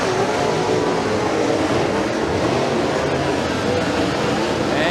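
Dirt track race cars thunder past at Bradford Speedway during a heat, a dense, loud, continuous engine roar from the pack with little letup, an announcer's voice partly buried beneath it.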